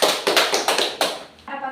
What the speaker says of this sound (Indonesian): berikan tepuk tangan untuk Yuda.